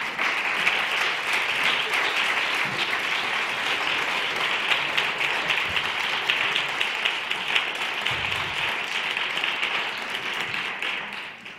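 Sustained, dense applause from an audience at an award ceremony of an inclusive employment and entrepreneurship forum in Madrid, loud and even throughout, fading slightly at the end.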